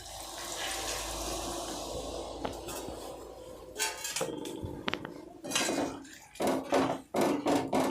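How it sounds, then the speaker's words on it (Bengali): Water pours and splashes into a cooking pot holding a prawn and taro root curry, a gushing wash in the first seconds followed by clinks and knocks of the pot and utensils. "এবার আমি এতে জল দিলাম।"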